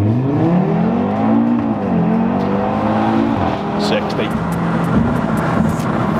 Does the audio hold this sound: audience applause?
no